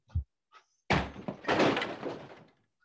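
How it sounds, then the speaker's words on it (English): A wooden chair smashed in a radio drama: a couple of small knocks, then a loud splintering crash followed by a burst of clattering breakage close by, with no talking. "Smashing that chair won't help"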